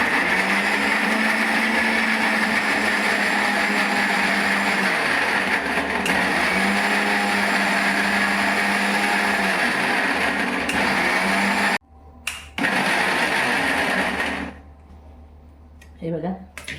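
A mixer grinder whirs steadily and loudly for about twelve seconds while blending chopped tomatoes into a paste for gravy, then stops abruptly, followed by a brief restart and a few scattered kitchen clatters.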